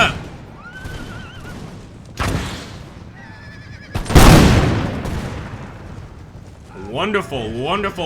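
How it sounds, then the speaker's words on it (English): Artillery fires during a battle in the Imperial Splendour strategy game, with two heavy booms a couple of seconds apart amid tonal battlefield effects and horse whinnies, while someone talks over it. "Looks like our artillery softening up the enemy quite a bit"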